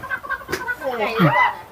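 Chickens cluck close by in short, choppy bursts while people talk over them.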